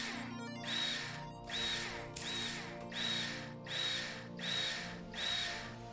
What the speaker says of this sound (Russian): Благо у нас есть замечательный марсианский шуруповерт.